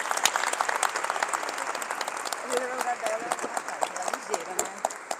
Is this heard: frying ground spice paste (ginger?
no